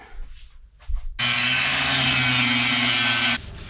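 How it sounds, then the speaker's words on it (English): A bent steel thumb from an excavator being sanded with a power tool: after a couple of quiet scrapes comes a loud, continuous abrasive grinding lasting about two seconds, which then stops abruptly. "I need to sand that a little bit more."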